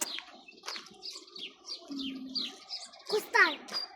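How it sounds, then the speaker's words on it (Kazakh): Sparrows chirp and sing nearby in a quick series of short, bright tweets and trills, with a brief low tone underneath and faint background noise. "өлең айтып жатыр құстар. Торғайлар."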